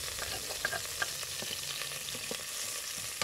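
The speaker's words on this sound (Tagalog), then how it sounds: "Maglagay ng konting mantika. At igisa ang" Garlic sautéing in a little oil for crab paste pasta, a dense steady sizzle close by with a few soft scraping stirs over it.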